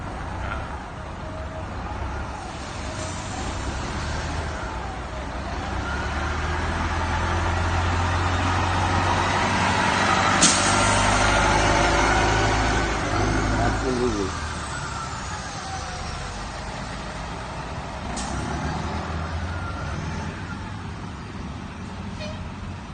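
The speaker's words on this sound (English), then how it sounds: "So I was literally like test driving the bus." Bus driving on a test drive: a continuous low engine rumble and road noise that swells in the middle and eases off, with a brief horn-like toot and a short spoken word.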